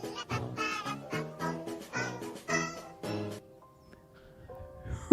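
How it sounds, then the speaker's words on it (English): A stream alert plays a chorus of meowing cats: a rapid series of layered, tuneful meows forming a short musical jingle, fairly loud, followed by quieter tones and a faint tail. "Jennifer, thank you for the cat choir with Tangia"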